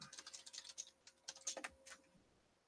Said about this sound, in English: I love this wireless keyboard because I can just sit here and troll the chat while you talk